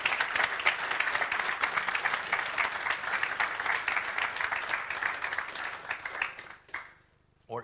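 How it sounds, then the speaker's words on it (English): A conference audience applauds the event organizers after a tech talk, a steady dense wash of clapping lasting several seconds before tapering off into quiet, with a brief final burst. "So round of applause for the organizers"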